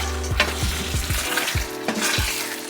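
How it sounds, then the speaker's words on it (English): Beef and Yukon Gold potatoes in cream of chicken sauce bubble and sizzle steadily in a pan, with a series of rhythmic stirring knocks and scrapes. "I'm just going to simmer a little bit until the potatoes are already tender"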